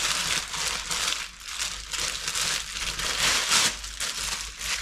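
Thin plastic bag crinkling and rustling steadily as freshly caught squid is wrapped up in a kitchen, a continuous close crackle with no talk.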